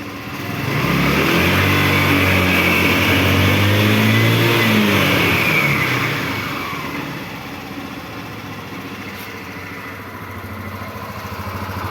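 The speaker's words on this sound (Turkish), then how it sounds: "Şöyle ufak da bir gaz vereceğim sizin için sesini duyun diye." An RKS Bitter 125 cc motorcycle engine revs up with a rising, throaty roar, holds briefly, then eases back to a steady idle. Close by, with no talking.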